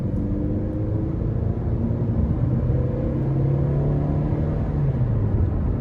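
A 2008 Toyota Camry SE with a 2.4-litre four-cylinder engine and five-speed automatic pulls away under acceleration, a steady low engine drone and road rumble from inside the cabin, with no talking.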